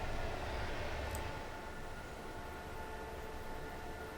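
A train in Train Simulator 2017 runs through the Lenne Valley in Germany, a steady rumbling rail noise with a broad hiss, constant and moderately loud, without speech.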